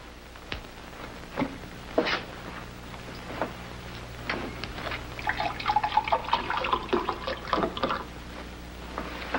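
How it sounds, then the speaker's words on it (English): Water is poured into a clean glass, giving a quiet, uneven run of trickles and small drips that thicken into a steadier splashing stream partway through. No one speaks. "Would you pour some water in here, please"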